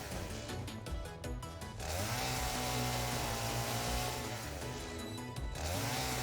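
Loud, close chainsaw in modded Satisfactory cutting through flowers, its engine revving up into a sustained high whine, dipping briefly, then revving again.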